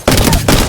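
Prowler gun firing in Apex Legends Season 4, two loud close bursts of rapid shots with a brief gap between them, punchy and full-bodied.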